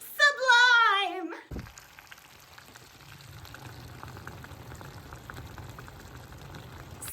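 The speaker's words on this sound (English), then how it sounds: "Observe sublimation as we drop the dry ice into warm" Dry ice dropped into warm water sublimates with a soft, continuous bubbling and fizzing, faint and close, following a short burst of music.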